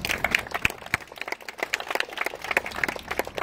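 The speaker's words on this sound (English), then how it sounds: "Please join me in giving the artists a round of applause" Audience at an outdoor art installation unveiling in Windsor claps for the artists, scattered hand claps forming a moderate, uneven applause that carries on steadily without speech.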